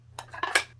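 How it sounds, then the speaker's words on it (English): Metal rings of a notebook binder with 9mm holes snapping open, a quick cluster of three or four light metallic clicks, close and faint over a low steady hum, with no talk. "you ain't never felt such smooth openings of notebooks"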